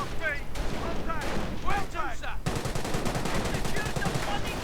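Bren gun fire in a World War II strategy game, sustained rapid bursts of automatic gunfire mixed with other weapons, loud and continuous with a voice talking over the shooting.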